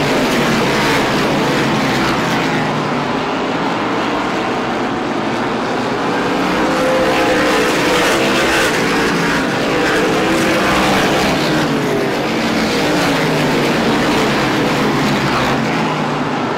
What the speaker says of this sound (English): Side-by-side racing